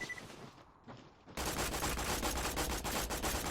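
Rapid, dense gunfire from a Herald gun in Borderlands 2 erupts after a quieter moment and then roars on continuously at close range, a loud, unbroken stream of shots.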